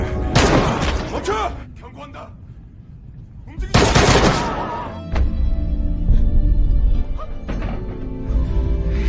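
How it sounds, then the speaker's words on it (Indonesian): Several sharp pistol gunshots crack out in bursts, loud and close, with ringing echoes and background noise between the volleys. "Chang Bae juga langsung mengambil pistol dan menembak Yongdae beberapa kali, sampai akhirnya."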